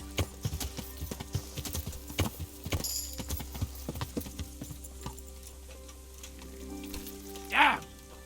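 Horse hooves clip-clop in a steady rhythm in the video game Kingdom Come Deliverance, moderately close, fading out before a short whinny-like call near the end.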